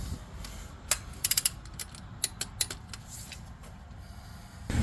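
A torque wrench ratchets on engine bolts while a 5.7L HEMI V8 goes into a 2005 Ram 1500 4x4, producing a few sharp clicks in a quick cluster, then scattered single clicks over a low shop hum, with no talking.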